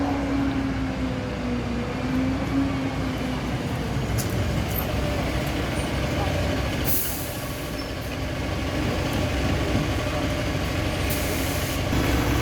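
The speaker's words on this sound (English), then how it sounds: "Then 2 buses showed up at the same time, neither of them are mine." Two buses pull in at a bus stop near Norwich station, a continuous loud engine rumble with a short burst of air-brake hiss partway through and no talking.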